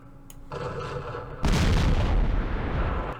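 Artillery fire in the Vietnam war game Campaign Series Vietnam, Battle of Hue: a faint rumble gives way to a sudden heavy boom and a dense, sustained roar of shelling that stays loud to the end.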